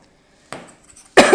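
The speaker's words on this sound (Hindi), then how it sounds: "सॉरी गाइस खांसी बहुत हो रही है" A person recovering from viral fever coughs during a lecture: a short, muffled cough burst, a brief pause with faint sounds, then a louder, harsher cough at the end.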